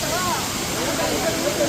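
A waterfall in Munnar, Kerala, gives a loud, continuous broadband roar of rushing, crashing water, with faint voices mixed into the steady wash.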